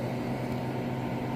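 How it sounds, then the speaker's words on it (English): A home freeze dryer runs with a steady, even mechanical hum and hiss, unchanging and continuous, with no voices. "the freeze dryer is still going, doing its thing"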